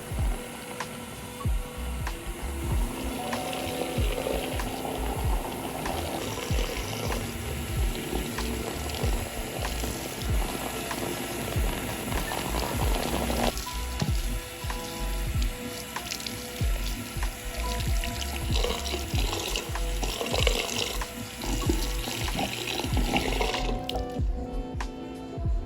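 Running water rinses soap out of type 4 curly clip-in hair extensions, splashing steadily and close for the whole stretch, with the patter shifting as the stream moves through the curls.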